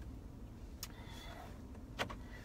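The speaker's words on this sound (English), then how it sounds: "let me lock the doors." Power door locks on a pickup truck clunk shut from inside the cab, two brief sharp mechanical clicks about a second apart over quiet background hum.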